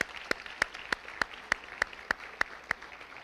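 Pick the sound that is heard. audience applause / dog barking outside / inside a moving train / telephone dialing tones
audience applause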